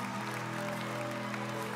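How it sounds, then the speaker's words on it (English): Audience applause at a worship gathering, a steady wash of clapping blended with sustained music or a held chord underneath, even and fairly loud across the moment. "Come on, give a round of applause."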